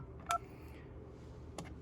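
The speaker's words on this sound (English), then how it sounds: "I can dial the phone number that I am calling" Number keys on an Avaya 9508/9608 desk phone are pressed, two short distinct tones spaced well apart over quiet room ambience.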